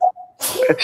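A sharp, close sneeze bursts out after a brief tonal vocal sound, loud and breathy, with a noisy tail.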